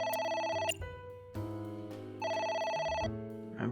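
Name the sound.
telephone ringing, from video game AI: The Somnium Files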